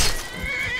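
A horse in the video game Skyrim gives a single brief, harsh neigh, loud and close, with faint hoof thuds beneath.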